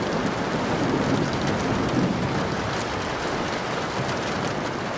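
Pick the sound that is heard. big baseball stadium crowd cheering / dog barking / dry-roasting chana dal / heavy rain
heavy rain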